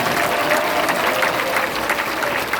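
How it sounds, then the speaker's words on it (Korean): An indoor audience at a Monday morning education session claps warmly and steadily for nearly three seconds, a dense, even wash of applause with no pauses. "뜨거운 박수를 보내십니다"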